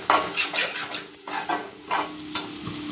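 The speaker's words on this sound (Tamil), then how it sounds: "இப்போ நல்லா கைவிடாத வதக்கலாம்" A spoon scrapes and stirs through tomatoes sizzling in a pan for a vegetable curry, with a steady hiss of frying and repeated clinks against the cookware.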